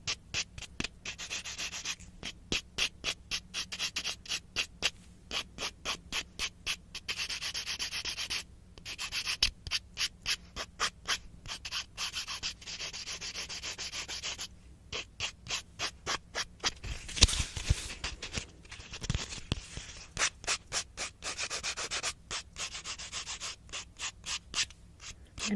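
Fingernails are filed and shaped with a 4-in-1 nail tool, making close, rhythmic rasping strokes in quick bursts separated by brief pauses, with no voices.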